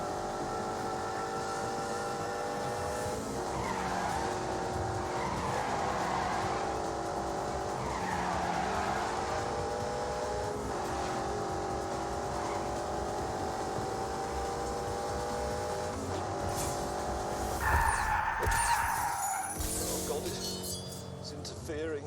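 A car engine revs hard at full throttle in The Grand Tour video game, loud and continuous, with tyre skids and squeals and a person talking over it.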